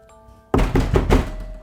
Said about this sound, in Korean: 문 쪽에서 누가 두드리는 소리가 들리는 거야.